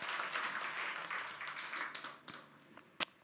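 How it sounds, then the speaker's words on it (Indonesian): Church congregation clapping hands for Jesus during a service, a fairly soft wash of many hands applauding that thins out, leaving a few scattered claps near the end. "Tepuk tangan buat Tuhan Yesus."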